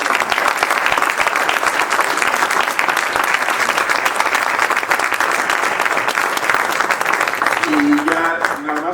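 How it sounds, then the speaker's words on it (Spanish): Strong, sustained audience applause for the film's protagonists at a cinema colloquium in Bilbao, loud dense clapping throughout, with a voice starting to speak over it just before the end. "quiero pedir un fuerte aplauso para todos los protagonistas de la película"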